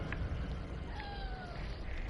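A house cat gives a short faint meow, asking to be let outside, over a steady low background hum.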